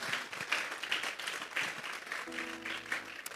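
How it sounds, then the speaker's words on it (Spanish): A church congregation gives a moderate round of applause as an offering to God, an uneven, scattered clapping with louder pulses. A low sustained tone joins near the end. "Vamos a darle una ofrenda de palmas a Dios en esta hora"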